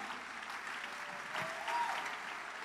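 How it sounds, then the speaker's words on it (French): An audience at a church conference breaks into sustained applause, steady clapping from a large crowd for a few seconds. "Give the Lord a hand."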